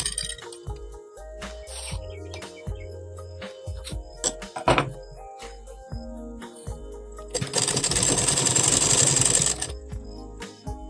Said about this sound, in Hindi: अब हम इस पर इस तरह से सिलाई लगाते जाएंगे।